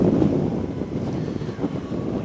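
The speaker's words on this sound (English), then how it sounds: "It's a bit windy here." Gusty wind buffets an outdoor microphone on a roadside, a steady low rumble with soft surges and no voices.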